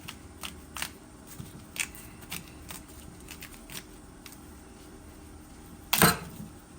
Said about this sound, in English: This is a cassava. Just cut it in 3 pieces.